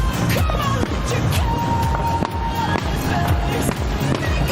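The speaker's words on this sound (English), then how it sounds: "A great fireworks display underway right" A Fiesta fireworks display in San Antonio bursts in a dense, continuous barrage of loud booms and crackles, with music playing underneath.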